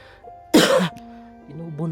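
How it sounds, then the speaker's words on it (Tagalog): A single harsh cough bursts out against quiet background tones, followed by a brief hum of voice. "Inuubo na ako"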